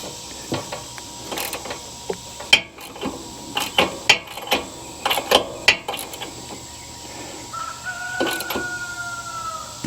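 A ratchet wrench tightens a bolt during an oil change on a zero turn mower, with repeated close ratcheting clicks and mechanical clatter in bursts.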